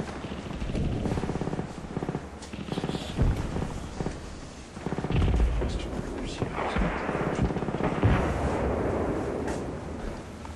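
Artillery barrage and gunfire in a video game, a dense continuous rumble of distant and nearer blasts with rattling shots layered over it, loud throughout, with voices talking under the din.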